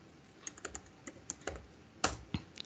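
Keys tapped on a computer keyboard while entering code for an app, a dozen or so distinct clicks in an irregular rhythm with a louder cluster near the end, close and alone.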